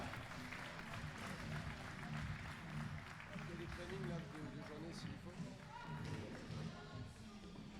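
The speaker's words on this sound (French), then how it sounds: "Applaudissements pour Erwan et Jeanne." An audience claps steadily at an under-14 scooter competition final, the applause spread and moderately loud beneath an announcer's voice.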